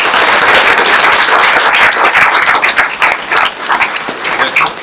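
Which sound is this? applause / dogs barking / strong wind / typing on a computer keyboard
applause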